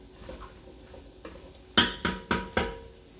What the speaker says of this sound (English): so we sauteing this for 5 minutes. I got it on medium to high heat